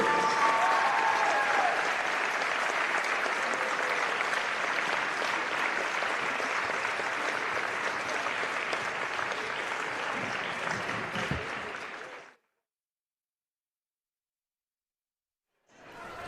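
A gym crowd at a high school senior night basketball game applauds and cheers steadily for senior cheerleaders and team members, a dense wash of clapping for about twelve seconds before it cuts to silence.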